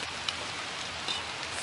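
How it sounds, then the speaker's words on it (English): Rain falls steadily on a tree and the surrounding ground with a dense, even hiss and a few faint drip accents, with no voices. "It's just starting to rain now"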